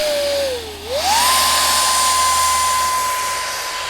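A high electric whine from an electric ducted fan motor on a homemade boat winds up from a lower pitch and settles into a steady, loud drone that holds evenly to the end.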